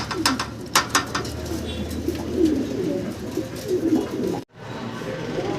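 A breeding pair of silver Sirazi pigeons coo in soft, repeated low calls, close by, with faint voices and a brief abrupt cutoff near the end.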